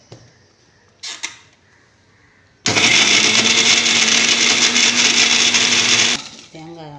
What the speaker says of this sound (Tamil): தேங்காய் திரிச்சாச்சு.